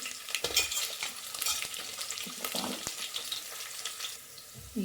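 Chana dal, urad dal, crushed garlic and green chilli pieces sizzle in hot oil in a pan as a tempering, with steady close frying crackle and occasional stirring scrapes, no talk.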